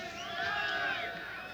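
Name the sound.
crowd cheering for the Delta Commando team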